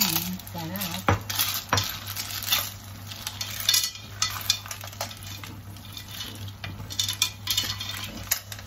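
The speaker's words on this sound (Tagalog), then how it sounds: "Lalagyan na natin itong ating suso." Snails tip into a cooking pot for a coconut-milk dish with squash and string beans, giving a scatter of clattering shell clinks against metal, then gentle stirring scrapes over a low simmer.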